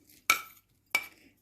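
Two sharp scraping knocks of a spoon against a bowl while mixing gujiya filling of milk powder, chopped cashews, almonds, raisins and cardamom powder, each stroke brief and close, separated by a short quiet gap.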